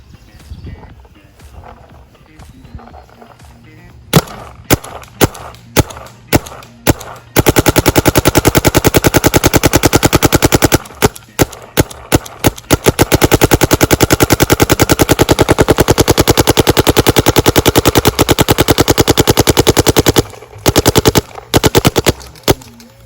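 Punisher's Edition Shocker XLS paintball marker firing rapid bursts of loud, sharp shots, with short pauses between strings and near-continuous fire through most of the stretch, after a few quiet seconds at the start.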